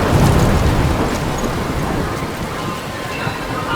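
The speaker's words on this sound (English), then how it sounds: "I'm trapped in this storm." A storm rages in Life Is Strange, with steady heavy rain and low thunder rumbling, strongest at the start, then a dense, constant wash with occasional louder bursts.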